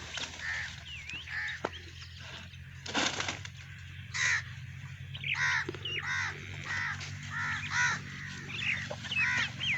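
Crows caw repeatedly in short harsh bursts, several birds calling near and far in an outdoor rural setting with a low steady hum underneath and no talking.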